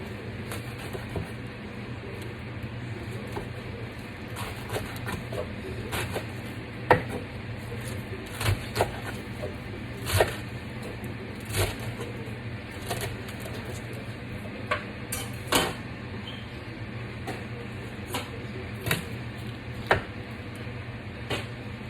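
Knife chopping washed collard greens on a cutting board, a steady run of soft, close taps with occasional sharper knocks over a low background hum.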